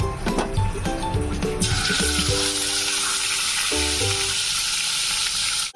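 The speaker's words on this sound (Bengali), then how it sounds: "এখন তেলটা গরম হয়ে গেছে, তো এখন এর মধ্যে আমি দিয়ে দেবো ম্যারিনেট করে রাখা মাছটা।" Marinated shol (snakehead) fish hits hot oil in a nonstick pan, bursting into a loud, steady sizzle that holds strong and close throughout, with faint clinks and musical tones underneath at the start.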